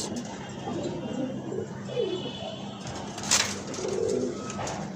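Pigeons coo softly in low, repeated throaty calls, overlapping amid a busy background and heard close by.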